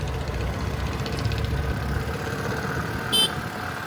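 A new Activa scooter engine idles steadily close by, a low continuous putter with no revving, running for the whole stretch.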